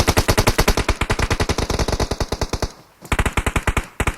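Rapid automatic gunfire in PUBG Mobile at the Military base: a long, loud, evenly spaced burst of shots, a brief pause, then another quick burst, with no talking.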